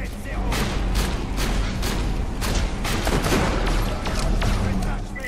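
Soldiers' gunfire in Borderlands The Pre-Sequel, rapid repeated shots and bursts in a dense, loud fusillade running throughout, with game sounds layered in.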